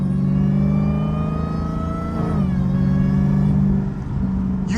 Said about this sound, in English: Car sound good though.